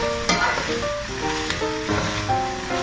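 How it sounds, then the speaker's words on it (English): Red cabbage stirred in hot bacon fat for German-style cabbage, sizzling loudly and continuously while a spoon pushes the shreds around, with a faint background hum of what may be music. "So I add a little bit, I stir, and then I add and I stir."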